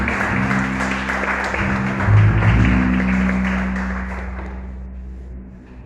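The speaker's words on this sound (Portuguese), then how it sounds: "recebe, Senhor, nossa salva de palmas" A church congregation claps together during a worship service, the applause rising briefly then fading away, with soft sustained organ-like tones underneath.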